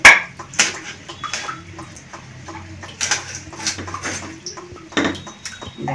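A knife cuts through a large fish that has had its scales removed and been washed, giving irregular sharp knocks and clinks against a board and utensils, close by and with no talk.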